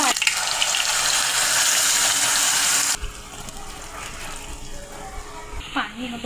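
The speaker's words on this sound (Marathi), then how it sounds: "पाणी घालून मी इथे वाढवलेलं आहे।" Water poured into a simmering jackfruit curry in a pan: a loud, steady rushing gush for about three seconds, then it cuts off into a quieter bubbling, with a brief scrape near the end.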